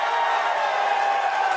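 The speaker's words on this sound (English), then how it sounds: "this crowd is bloody loud today" Loud, steady crowd roar from the audience at a PBA bowling final, the 2022 U.S. Open stepladder finals, a dense wall of cheering and noise held unbroken throughout.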